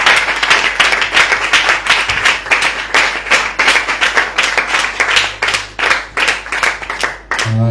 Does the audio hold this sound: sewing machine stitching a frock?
no